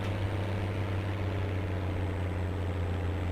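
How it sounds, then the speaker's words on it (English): A noisy farm tractor engine idles steadily at close range, a loud constant low drone with a deep rumbling hum and no voices. "It's a noisy tractor."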